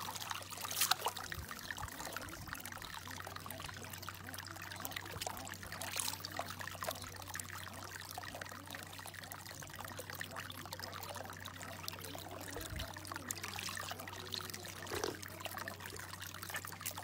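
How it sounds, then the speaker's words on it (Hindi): Water trickles softly from a salty spring well at a shrine in Iraq, a low continuous dribble with faint splashes, steady and fairly quiet throughout, no one speaking. "ये वो चश्मा है जी।"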